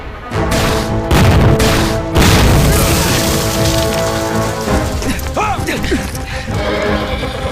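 Gunfire in a war drama set during fighting against the Japanese army, small arms only with no heavy weapons: loud booming shots burst out early, then a dense crackle continues under other battle noise and a tonal cry.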